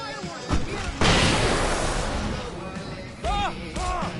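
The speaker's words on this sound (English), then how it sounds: "I can set off more of the fireworks from here!" Fireworks going off in the video game Alan Wake Remastered: a loud, dense burst of crackling explosions and booms that fills the scene, with a voice shouting over it near the end.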